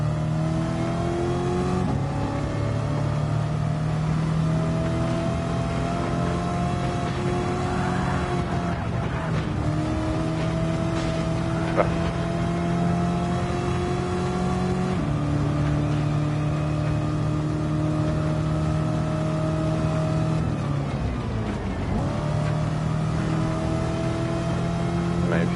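Race car engines in Gran Turismo 7 during a 100-lap race roar continuously, with rising and falling revs through gear shifts, occasional tyre squeal, steady and loud.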